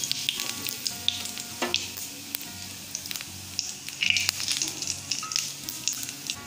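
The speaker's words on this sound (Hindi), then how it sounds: "तेल गर्म हो गया, उसमें गोटा जीरा डाल देंगे, अजवाइन को क्रश कर डाल देंगे" Cumin and crushed carom seeds sizzle in hot oil in a kadhai, a close, steady frying hiss broken by sharp pops and crackles scattered throughout.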